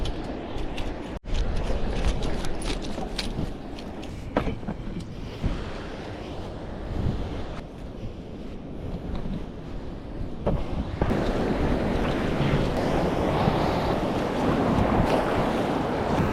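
Ocean waves and wind off the Sydney coast, heard from a fishing boat. A continuous rushing roar with buffeting wind noise against the microphone grows fuller and louder in the second half, and no one speaks.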